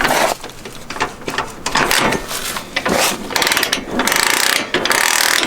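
Clunking, ratcheting mechanical clicks from the shifter or kickstarter of a 1996 Honda 4x4 ATV, a run of loud, close, irregular knocks and gear engagements with no talking.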